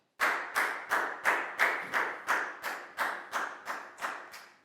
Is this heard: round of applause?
yes